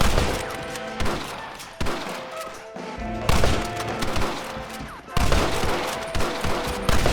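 Dense gunfire from a Red Dead Redemption shootout, volleys of rifle and pistol shots crackling in rapid overlapping bursts with brief lulls, loud and continuous across the scene.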